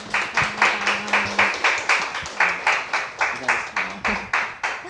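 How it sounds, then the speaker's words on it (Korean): Steady rhythmic clapping from an audience at a Korean lecture on fairness discourse, honoring the professor who spoke; roughly a dozen even claps at moderate loudness, with a voice talking low beneath. "오늘 열강해주신 교수님께 박수 부탁드립니다"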